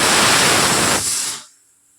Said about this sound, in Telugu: వీటిని మిక్సీ పట్టుకోవాలి, మెత్తగా పొడి చేసుకోవాలి.